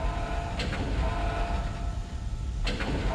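A tram in the Dead Space game moves along with a steady rumbling, rail-like hum and two brief clanking bursts near the start and end, carrying on loudly throughout.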